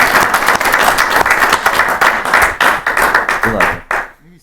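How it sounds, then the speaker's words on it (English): Audience applause at a city council meeting, loud, dense and sustained for several seconds before tapering off, with voices mixed in near the end. "Let's give her a round of applause."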